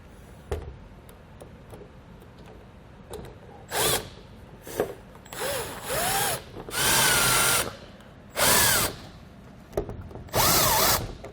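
A power drill drives screws to mount an LED RV utility light, giving several short whirring bursts that rise and fall in pitch, separated by quiet pauses and small clicks.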